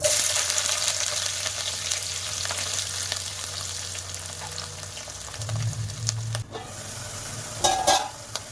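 Onions and a few dried red chillies frying in oil with tempering seeds for a Telugu amaranth and onion curry, a steady loud sizzle with stirring scrapes and a brief sharper burst near the end.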